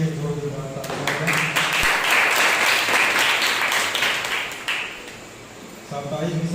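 Church congregation at a Sunday service applauding for the pastor's birthday, a dense burst of clapping that swells for several seconds and fades, with a voice speaking at the start and end.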